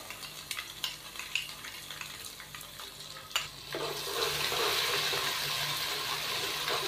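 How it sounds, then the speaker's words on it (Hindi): Ginger garlic paste stirred into light-brown onions in a pan, with scraping stir strokes followed by a steady soft sizzle of frying, heard close and fairly quiet. "1 से 2 मिनट हम अदरक लहसुन के पेस्ट की भुनाई कर लेंगे ताकि इसका कच्चापन ख़त्म हो जाए"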